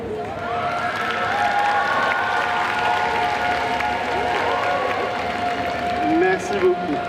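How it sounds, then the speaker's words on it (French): Audience applause at a cosplay contest fills the hall steadily for several seconds, a dense continuous wash of clapping from a large crowd, with a tonal music or voice line running through it. "On a applaudi bien fort"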